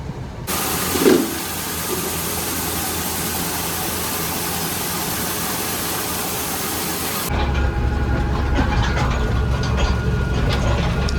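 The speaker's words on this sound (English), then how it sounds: "I'm just letting this run for a little bit, let it cool the engine" A Challenger tractor engine idles to cool down, giving a loud, steady, close rumbling hiss that runs unbroken and changes in tone near the end.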